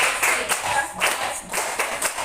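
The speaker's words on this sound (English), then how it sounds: "Let's give Nathaniel a best clap." A class claps for a student during a teaching demonstration. The clapping is steady, fairly close and made up of many overlapping hand claps, with a few louder bursts, heard on its own without speech.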